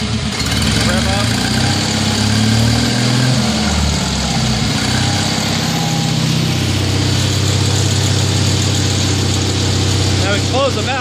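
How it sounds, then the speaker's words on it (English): A Kohler 5000-watt generator engine idles on propane with a steady, loud, close mechanical drone and a low rumble. A voice is briefly heard over it. "Now we're running on propane. It'll idle down."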